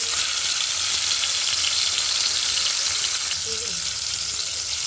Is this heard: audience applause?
no